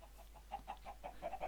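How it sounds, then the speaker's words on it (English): Chickens cluck in a Minecraft stable, a series of soft, quiet, evenly spaced clucks heard briefly and faintly with no talking. "So we've got some chickens in here."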